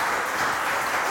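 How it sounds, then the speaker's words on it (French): Steady burst of audience applause on a French-language television game show as a contestant is congratulated, a dense, even wash of clapping that lasts about a second. "Et ça s'applaudit."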